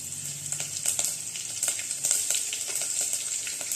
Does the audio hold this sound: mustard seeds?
yes